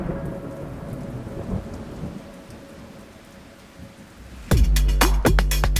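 Steady rain falls with a low rolling rumble of thunder, then a sudden sharp, loud thunderclap cracks close by, followed by heavy rumbling.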